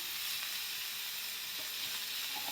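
Garlic cloves, ten to fifteen of them, fry in a masala base for a Maharashtrian egg curry, giving a steady, close, even sizzle throughout with no talk.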